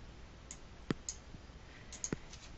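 Mouse clicks on an icon in modeling software, heard as two or three faint, sharp isolated clicks over quiet room hiss.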